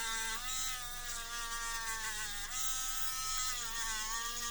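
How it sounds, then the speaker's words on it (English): A Dremel rotary tool spins a wire wheel against a model car body to strip paint, giving a steady high-pitched whine and buzz with slight dips in pitch as it bites into the surface. "we'll do the best we can with the wire wheel"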